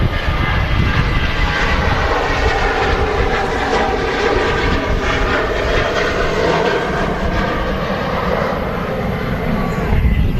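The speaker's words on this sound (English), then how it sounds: "There's another Ryanair 737-800." A Ryanair Boeing 737-800 at Manchester Airport roars continuously with loud, steady jet engine noise that dominates throughout, with faint talk underneath.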